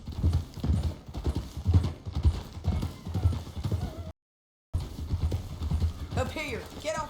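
Steady clip-clopping horse hooves in Red Dead Redemption 2 carry on beneath people talking, with a short horse whinny rising near the end.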